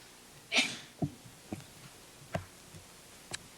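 A single short sneeze in a courtroom near the start, followed by a few faint clicks and soft breathy noises in a quiet room.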